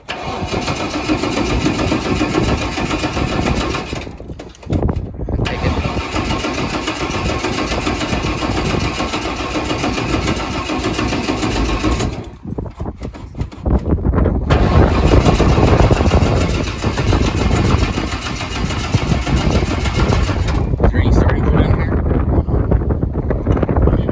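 A Chevrolet Vega engine fed starting fluid cranks and catches, running loudly and roughly with two brief drop-outs before revving harder, heard close outdoors with heavy wind buffeting.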